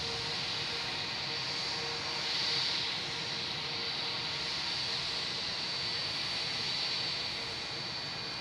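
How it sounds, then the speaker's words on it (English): A JetBlue Airbus A321 arriving at Boston Logan makes a steady, moderately distant jet roar with a hissing high whine, swelling slightly midway and again near the end, with no voices. "And we have a JetBlue coming in from LAX, an A321, flight 588."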